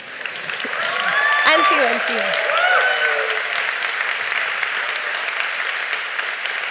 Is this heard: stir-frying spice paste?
no